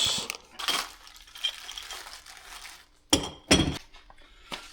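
Metal bolts clinking and rattling as they are unpacked from a Vevor engine stand box, scattered light clinks followed by a few louder jangling bursts near the end.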